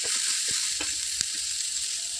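Ivy gourd pieces with curry leaves fry in hot oil, a steady bright sizzle running throughout, broken by a few soft scrapes and taps as the pan is stirred.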